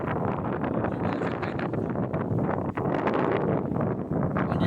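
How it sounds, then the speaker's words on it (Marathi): Strong wind gusting across the heights of Lohagad fort, a loud, continuous roar buffeting the microphone for several seconds with only a brief dip near the end. "खूप जास्त वारा चालू आहे"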